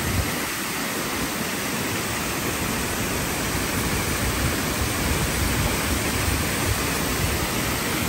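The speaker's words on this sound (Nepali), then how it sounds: "खोला चाहिँ यस्तो रहेछ" Steady broadband rush of a mountain river flowing near a waterfall, loud and continuous throughout with no voices over it.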